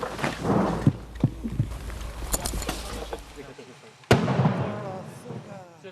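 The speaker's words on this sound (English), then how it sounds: "As if to prove the point, incoming Russian artillery." Incoming Russian artillery strikes near a Ukrainian front-line position, with a sharp, loud blast cracking out late amid scattered thumps and a low rumble, while people talk nearby.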